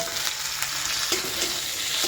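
Onion, garlic and ginger fry in a pan for an egg curry, a continuous close sizzle with a few soft stirring scrapes, no talking.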